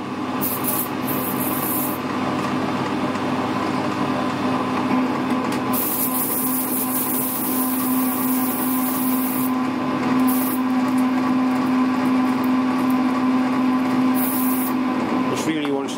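A lathe parts off an aluminium boss with plenty of lubricant, giving a steady droning hum with a sustained tonal whine, interrupted by bursts of hissing spray, close and continuous.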